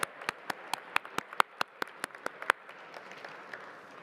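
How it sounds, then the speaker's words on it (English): Applause from a crowd at a gala, with several sharp, loud claps standing out in a steady rhythm over a softer wash of clapping that gradually thins out. "Another round of applause for the great Ambassador Gilad Erdan"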